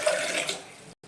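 Water pouring into a pressure cooker in a home kitchen, a steady close splashing gush lasting about a second before stopping abruptly.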